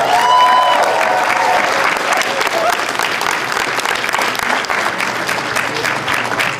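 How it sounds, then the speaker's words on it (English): Loud, sustained audience applause at a national convention speech, dense clapping that fills the hall and tapers only slightly, with faint crowd voices mixed in. "So give yourselves a round of applause for that."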